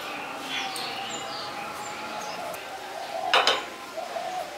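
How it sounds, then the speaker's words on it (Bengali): A metal wok set down on a gas stove gives a few clinks and a clatter in a kitchen, with a sharper knock near the end. Faint background noise runs underneath. "দিয়ে কড়াই বসিয়ে দিচ্ছি।"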